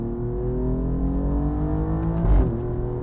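An Alfa Romeo Giulia QV cruises along a back road, its engine humming steadily from inside the cabin before a short surge of revs near the end.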